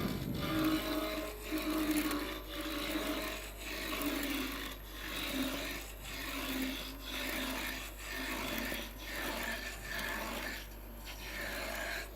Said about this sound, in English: Just give it a quick little sharpening thing here.